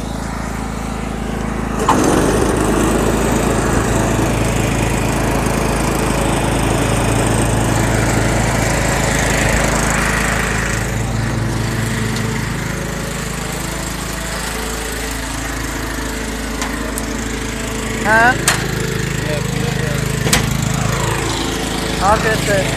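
A lawn mower engine drones steadily and loudly close by throughout, starting up after a brief moment, with a few clanks and rattles near the end.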